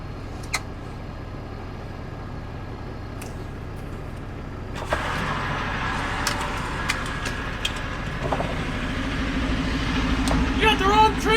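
A four-wheel drive vehicle's engine builds speed, a steady rumble that grows gradually louder toward the end, with people talking over it throughout.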